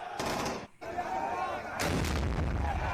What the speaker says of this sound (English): gunfire rippling through the streets